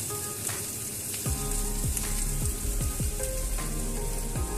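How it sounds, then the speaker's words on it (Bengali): Fried prawns drop into taro stolon curry sizzling loudly in a pan, a steady close frying hiss with a few soft plops and stirring scrapes, no voices. "এবারে এর মধ্যে আমি দিয়ে দেব সেই ভেজে রাখা চিংড়ি মাছগুলো"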